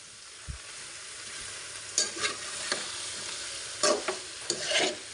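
Black mustard paste is stirred into food frying in a pan: a soft, low sizzle broken by a handful of distinct spoon-scraping strokes, some paired, spread across the moment.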